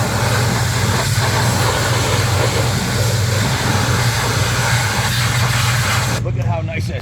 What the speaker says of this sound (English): if you're lucky to have a professional power washer like this, it's great